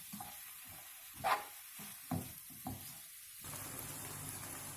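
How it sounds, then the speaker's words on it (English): Tomato, zucchini and other vegetables stirred and lightly frying together in one pan while pasta is prepared, with a steady soft sizzle and a few scraping stir strokes near the start before the frying settles into an even hiss. "Now we will, of course, stir all of this and lightly fry it."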